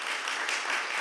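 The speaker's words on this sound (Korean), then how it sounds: "이 생일 맞으신 분들 우리 축하하며 축복하는 박수 하기 원합니다" A church congregation at a Korean service gives a quick, dense round of applause for members celebrating birthdays, lasting only about a second.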